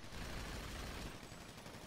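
Rapid bursts of gunfire in the GTA Online video game, a dense, steady barrage of crackling shots running the whole moment with no voices over it.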